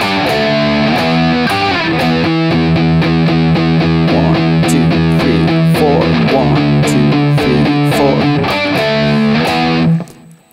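Distorted electric guitar playing the fast verse riff of a song, loud and driving with steady repeated chugging notes and short bends, ending abruptly near the finish.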